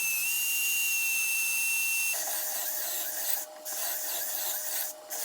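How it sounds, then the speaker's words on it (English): A belt sander clamped to a workbench smooths rounded wooden edges on farmhouse table parts, a steady whining hum at first that changes to a broader grinding rasp, with two brief dips as the wood is lifted away. "take your belt sander and clamping it down to the workbench makes a great way to smooth over any rounded edges"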